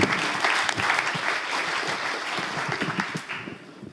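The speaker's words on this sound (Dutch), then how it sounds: "Geef een warm applaus, Lisbeth Huizer." An audience at a public discussion on police diversity gives a warm round of applause for police chief Liesbeth Huyzer. The clapping is dense and moderately loud and tapers slightly toward the end.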